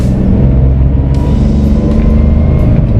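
A manual car engine revving up to around 3000 rpm before a gear change, a loud, close, steady low rumble filling the whole moment without talk.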